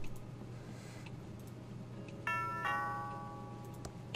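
Doorbell in the point-and-click adventure game Thimbleweed Park, two clear ringing chime tones struck in quick succession and left to fade, over a quiet low ambient hum with no talking.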